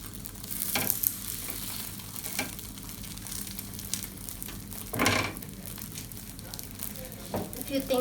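Lachha paratha, a multi-layered flatbread, frying in a pan over low-to-medium heat with a soft steady sizzle, broken by louder scraping and rustling bursts as it is handled and turned.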